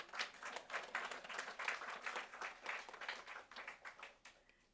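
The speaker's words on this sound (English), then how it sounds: "give themselves a big round of applause" Conference audience applauding steadily throughout, dense clapping close and loud, thinning slightly toward the end.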